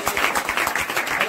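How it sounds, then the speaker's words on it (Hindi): Short burst of clapping from a church congregation at a village prayer meeting, a close, steady patter of many hands with a faintly rhythmic pulse. "एक बार तालियां बजा दे और बता दे कि आप आवाज सुन पा रहे हैं।"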